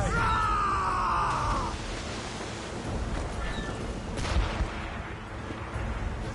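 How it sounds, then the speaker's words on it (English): Ship cannons fire in a naval battle, heavy booms and rumbling blasts following a brief tonal call at the start, with shouted voices and a loud crack near the end. "They're firing, sir!"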